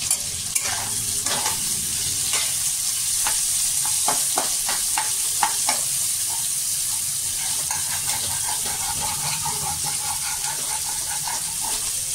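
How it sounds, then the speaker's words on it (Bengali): Chopped capsicum and mushrooms fry in a pan with a steady close sizzle, interrupted by repeated scraping and stirring strokes in the first half, then a continuous hiss alone. "এবার ক্যাপসিকাম কুচি দিয়ে ভালো করে জিনিসটাকে একটু ভাজা ভাজা করে নেব।"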